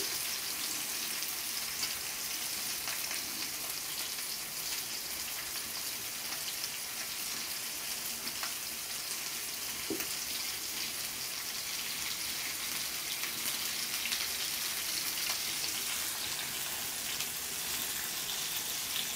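Mackerel fries in oil in a pan for a crispy fish fry, a steady, dense sizzle and crackle that continues evenly throughout with no talking.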